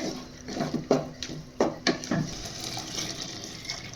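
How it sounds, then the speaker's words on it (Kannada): Water is poured into a mixer jar in the kitchen while making tomato bath, heard as a few splashing pours and clinks of the jar, close by, followed by a softer steady trickle. "ಅದೇ ಮಿಕ್ಸಿ ಜಾರ್ಗೆ ನೀರನ್ನು ಸೇರಿಸ್ ನೀರು ಸೇರಿಸ್ಬಿಟ್ಟು ಹಾಕ್ಕೊತಾ ಇದ್ದೀನಿ"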